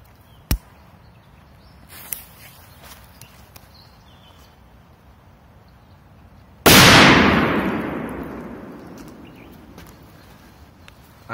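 A powerful K1000 firecracker blows up a toy. A few faint clicks come first, then one sharp, loud blast that rumbles and fades over several seconds.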